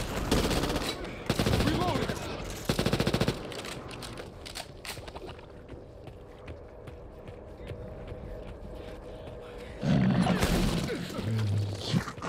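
Rapid automatic gunfire from a purple Uzi and an M249 light machine gun in a video game, several dense bursts early on, then quieter rattling, with a voice talking over parts of it.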